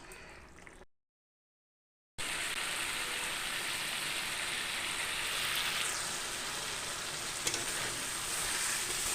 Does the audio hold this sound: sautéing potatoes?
yes